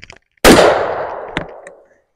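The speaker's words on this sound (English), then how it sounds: "I'm going to shoot a couple of 12 gauge shotgun shells just to make sure everything's good with it" A single 12 gauge shotgun shell firing outdoors: one loud, sharp blast followed by a long ringing decay, with a small metallic clank during the tail.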